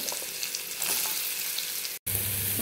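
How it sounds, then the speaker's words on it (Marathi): Chopped bottle gourd hits hot oil tempered with mustard seeds, cumin, red chilli powder and turmeric in a pan, setting off a loud, steady sizzle and frying hiss that fills the space with a brief dropout near the end. "यानंतर हा भोपळा टाकून घेते"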